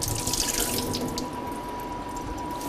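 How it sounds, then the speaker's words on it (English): Shrimp rinsed under a running kitchen tap, a steady close hiss and splash of water hitting the sink, slightly louder at the start, with no talking. "I'm just going to rinse these off quickly."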